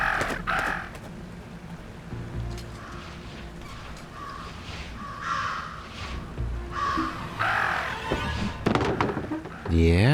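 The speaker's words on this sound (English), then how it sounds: "Talk about a murder of crows." Crows caw in a video game, several harsh calls scattered across the scene among thumps and ambient game noise, with a person talking over parts of it.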